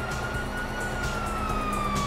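Police sirens in GTA 5, a continuous wailing tone sweeping slowly down in pitch over a dense, noisy background of chaotic commotion.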